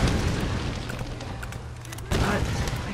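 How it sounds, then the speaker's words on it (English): A deep dynamite boom bursts out in Tomb Raider, followed by rumbling debris and a second sharp blast partway through, loud and close amid game noise. "That's dynamite."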